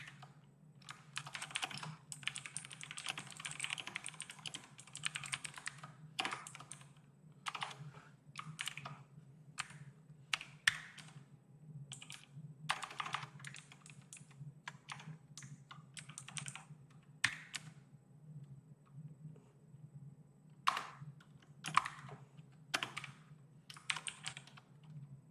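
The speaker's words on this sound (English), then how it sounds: "I'm sure his teammates love the mechanical keyboard." Fingers type on a mechanical computer keyboard in quick bursts of clacky keystrokes with short pauses between them, close and fairly quiet over a low steady hum.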